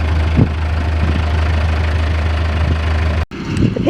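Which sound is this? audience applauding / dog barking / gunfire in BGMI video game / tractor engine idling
tractor engine idling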